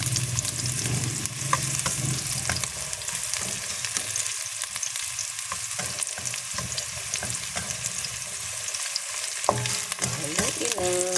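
Onion and garlic sautéing in a pan for sotanghon with vegetables, steady close sizzle with occasional stirring scrapes, no voices.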